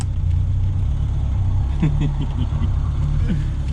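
A small three-wheeler car engine idles with a steady low rumble, close by, with a few faint squeaks over it.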